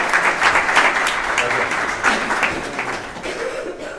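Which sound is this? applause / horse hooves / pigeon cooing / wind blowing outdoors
applause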